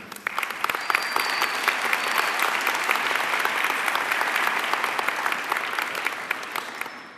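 An audience at a freshman academy kickoff event claps loudly and continuously for several seconds, a dense, even wash of applause from a large crowd with no talk over it.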